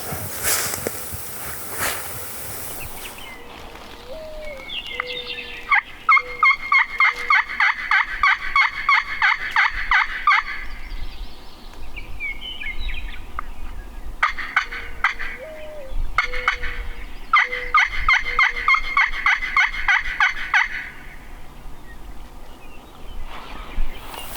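Wild turkeys gobbling from a hill on South Dakota public land during a hunt, in repeated rattling bursts, several calls in a row, with quieter chirps and light rustling in between.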